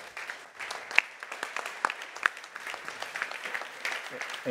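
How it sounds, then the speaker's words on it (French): Audience applause at a supply chain directors' gala, a crowd clapping steadily at moderate distance with a few sharper individual claps, continuous and fairly soft, and a voice entering just at the end. "Donc je vous demande déjà de les applaudir"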